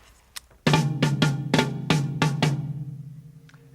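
Toms and double bass drums on a drum kit trade a short call-and-answer rhythm, six loud, close, resonant drum hits in quick succession with a ringing decay that lingers after the last one, with no voices.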